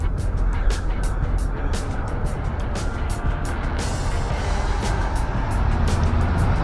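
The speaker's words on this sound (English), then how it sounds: "The Camaro back in action." A Camaro drives at an outdoor car show, its engine rumbling low and steady beneath a busy backdrop of ticking, clattering sounds, fairly loud and close throughout.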